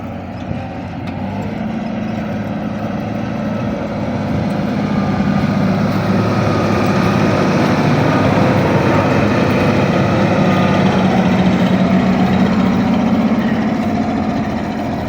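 A tractor engine pulling a seed drill runs steadily with a loud, close, droning rumble and an uneven, rough-edged throb, as though misfiring on a cylinder, holding nearly constant throttle throughout.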